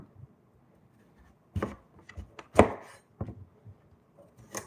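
A knife chops vegetables for a vegan Jamaican red peas soup. A few scattered, uneven cuts land close by, with one louder thunk near the middle and short quiet gaps between strokes.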